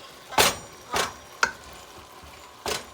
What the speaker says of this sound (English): that's why you hear me banging. I hear bigger chunks and I'm just chopping right through it or slicing right through it